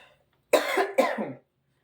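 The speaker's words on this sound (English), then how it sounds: "I still have a little cough." Two sharp coughs close up, one right after the other, in an otherwise quiet room.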